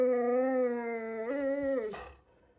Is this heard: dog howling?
yes